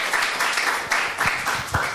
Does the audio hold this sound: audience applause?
yes